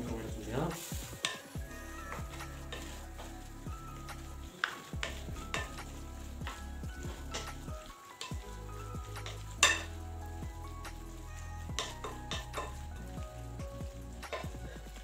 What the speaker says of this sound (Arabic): حركوا المكونات مزيان